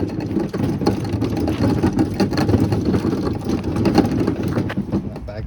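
A MacAllister DJ80 heavy duty platform truck rolls steadily along, its wheels giving a continuous low rumbling clatter for several seconds without a break.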